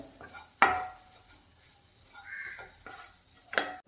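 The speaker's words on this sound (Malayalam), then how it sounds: "അപ്പം തേങ്ങ ഒന്ന് വറക്കാനിട്ടിട്ടുണ്ട്" Grated coconut dry-roasting in a pan for a Kerala chicken thoran, with a few sharp scrapes of a spoon against the pan and soft stirring in between, close and fairly quiet.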